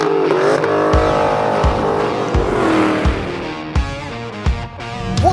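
A 2020 Dodge Challenger SRT Super Stock driven hard on a track, its engine roaring loud and close as it revs up and down between shifts, with brief sharp thumps.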